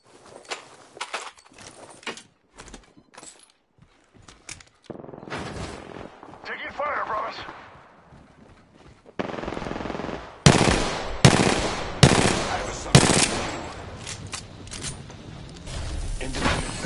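Bursts of automatic gunfire and sharp shots in the Apex Legends battle royale shooter, a few scattered pops early, then loud dense volleys near the end, with footsteps and talk in between.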